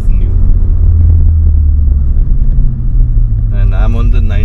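A Skoda Octavia RS245 running a Revo Stage 2 OPF map drives hard with steering-angle wheel spin, a loud, steady low engine and tyre rumble throughout, with a brighter rising note near the end.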